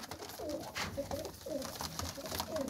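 Pigeons coo repeatedly in soft, rolling calls that rise and fall at steady intervals against a constant background hum, close by and moderately loud. The birds are young flying pigeons kept for sale in Kharagowal, Pakistan.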